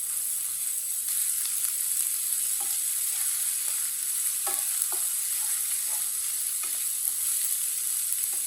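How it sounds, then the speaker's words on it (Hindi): Crushed garlic sizzles in a pan as a steady, even hiss, with faint scattered pops and light stirring clicks throughout, fairly quiet and with no voices. "एक चम्मच कुटा हुआ लहसुन डालेंगे। लहसुन को भी 1 मिनट के लिए पका लेंगे।"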